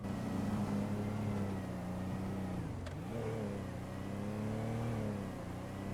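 A car engine in a video game drives at a steady mid-pitched hum with a brief dip and swell in revs partway through, near and continuous, no talk.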